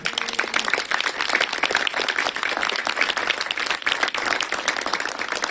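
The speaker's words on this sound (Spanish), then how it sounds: "Dale un fuerte aplauso al Señor" A church congregation claps together in a sustained round of applause during a sermon, a dense, even wash of many hands that stays moderately loud throughout.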